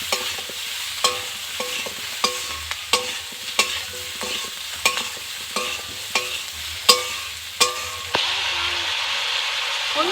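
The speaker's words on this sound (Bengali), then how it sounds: "আদাটাকে কিন্তু খুব ভালো করে ভাজতে হবে" Ginger paste frying in a pan for a winter vegetable curry, a steady sizzle punctuated by regular, evenly spaced scrapes and knocks of a spatula stirring, close and fairly loud, with no voices.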